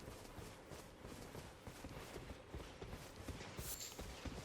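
Horse hooves clip-clop in the video game Elden Ring, a quiet, steady run of hoofbeats under a dense wash of background noise, with no talk.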